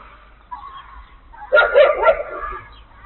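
A few street dogs in Şanlıurfa, Turkey, bark and yip in a brief cluster, moderately close, with faint background noise before and after.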